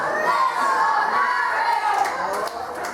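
A wrestling crowd cheers and shouts steadily throughout, a dense wall of voices with higher children's yells rising above it and brief claps and spikes near the end.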